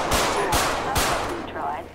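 Three loud gunshots in GTA ring out in quick succession, roughly half a second apart, over a noisy background with a faint voice.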